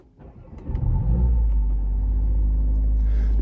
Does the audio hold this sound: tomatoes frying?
no